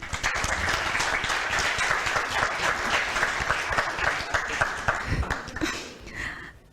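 An audience applauds to welcome Dr. Yusuf Hamied onto the stage at an opening session, with steady, full clapping from a crowd that holds for several seconds and then fades out.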